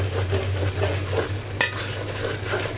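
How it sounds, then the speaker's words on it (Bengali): Spice masala being stir-fried in a pan, a continuous close sizzle under repeated scraping stirs, with one sharper clatter midway, no voices. "এখন ভালোভাবে মশলাটা কষিয়ে নেব 5-6 মিনিট।"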